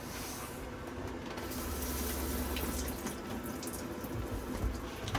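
Water runs steadily from the taps and shower of an Auto Trail Apache 634 motorhome with the pump switched on, a continuous close-up hiss and splash that swells slightly after the first second and then holds.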